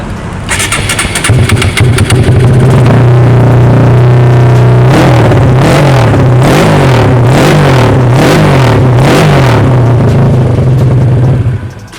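A tuned Honda CBR150 motorcycle rated at 35.8 HP fires up on the starter and settles into a loud, rough idle. It then revs repeatedly in a rising-and-falling rhythm, close and alone with no talking.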